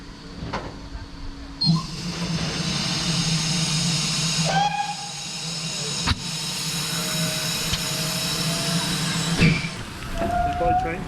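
A steam locomotive on a heritage railway in Gloucestershire and Warwickshire hisses loudly and steadily, with short whistle-like tones and a few clanks over the rumble of the engine, close by.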